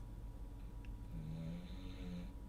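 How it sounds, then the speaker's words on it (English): A pet dog snores softly and steadily at rest, low rumbling breaths rising and falling in a quiet room. "You snoring a lot."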